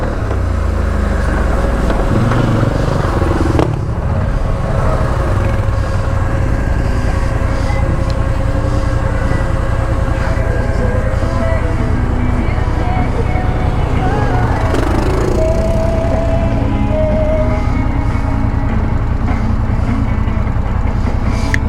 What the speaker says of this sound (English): I love how much power this bike has.